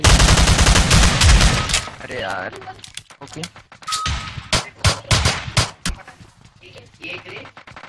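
Shotgun and other gunfire in the PUBG video game, with sharp, loud blasts in bursts, heaviest at the start and then scattered shots later, mixed with game voices and talk.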